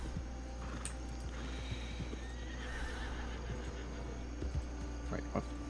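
A horse whinnies loudly in a Red Dead Redemption 2 roleplay server, with scattered hoof clops on hard ground over a steady low hum and faint background talk.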